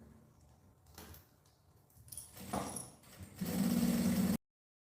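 A domestic sewing machine, fitted with a machine presser foot, stitches a fabric toiletry bag. Mechanical handling and clicks come first, then a short steady whirring run that stops abruptly.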